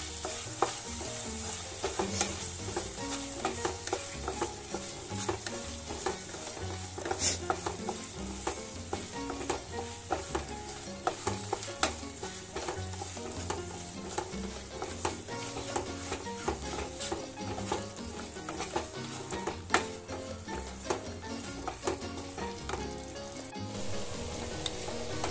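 Almond halwa with sugar cooking in a pan, a dense continuous sizzle and frying crackle with busy, rhythmic stirring and scraping throughout, close and steady with no voices.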